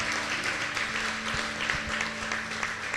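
A church congregation claps together during a Portuguese-language Easter service, a dense, continuous patter of applause over a low sustained hum.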